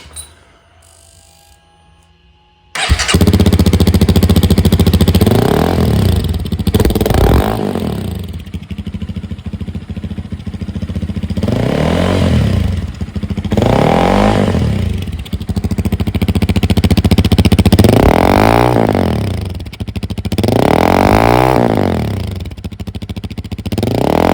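A loud Honda CRF300L motorcycle engine with an aftermarket exhaust close by, revved hard in repeated bursts that climb and fall, with a rough, throaty exhaust note between throttle blips.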